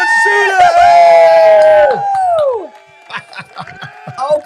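A crowd cheers, whoops and screams loudly in a sound effect, with high excited voices over each other. The cheering fades into scattered shouts and claps.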